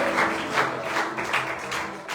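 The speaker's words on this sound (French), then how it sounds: "Est-ce que quelqu'un peut acclamer très très fort les applaudissements de victorieux?" Congregation at a church Bible seminary applauding loudly and continuously, a dense steady wash of clapping with some cheering voices mixed in, fairly close and full.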